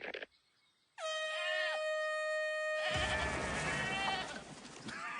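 A loud, drawn-out goat bleat with a harsh, horn-like tone, followed by noisy rumbling and clatter.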